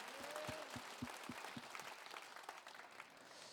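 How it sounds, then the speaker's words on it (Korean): A church congregation claps together in steady, rhythmic applause, fairly soft and distant, gradually thinning out. "우리를 승리케 하신 하나님께 영광의 박수 올려드리겠습니다."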